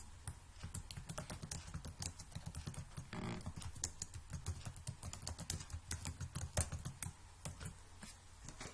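Steady computer keyboard typing as text is entered in a drawing program, dense irregular key clicks running throughout at close range with no talking.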